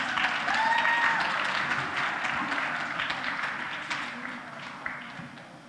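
A school music festival audience applauds after a violin piece, a dense round of clapping that starts strong and slowly tapers, with a few faint voices underneath.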